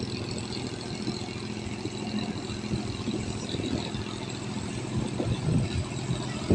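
A loaded sand barge's engine running on a river makes a low, steady, fairly faint chugging rumble with no break, heard from some distance.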